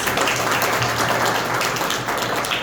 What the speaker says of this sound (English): I request all the teachers to give them the huge round of applause